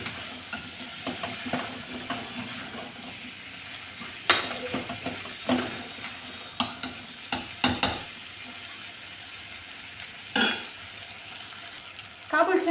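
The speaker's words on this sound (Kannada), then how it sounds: "ಒಂದು ಕಪ್ಪಷ್ಟು ಚೆನ್ನ ನೆನೆಸಿಟ್ಟಿದ್ದೆ ಅದು ಹಾಕ್ಬಿಟ್ಟು ಚೆನ್ನಾಗಿ ಮಿಕ್ಸ್ ಮಾಡಿ" Soaked chickpeas being stirred in a frying pan, with a steady low sizzle and repeated scraping, clacking knocks of the utensil against the pan, sharper strikes clustered midway and near the end.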